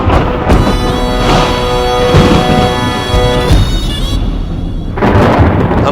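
Thunder rolls and rumbles through steady rain, loud and continuous, with a dip in the noise near the end before the storm swells back up; no voices.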